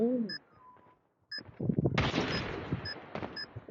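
Gunfire in a video game shooter: sharp bursts and a rapid volley of shots with electronic cue tones, busy and fairly loud.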